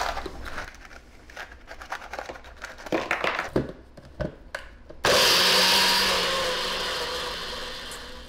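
Scattered clatter and knocks, then a countertop blender roars to life abruptly and whirs steadily while blending a peanut butter banana protein shake, loud and close.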